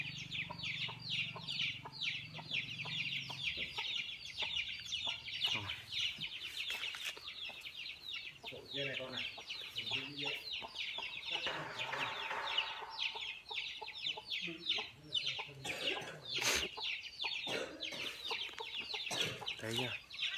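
Chickens cluck and chatter continuously on a rural farm, close and busy, with sharp rapid clucks and occasional louder calls over steady background noise and faint distant sounds.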